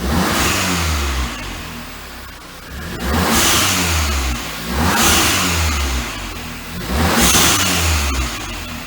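A 2.0 TSI car engine fitted with a Forge dump valve revs loudly and repeatedly, close by, with four rising surges over a rough idle, each ending in a hissing blow-off release.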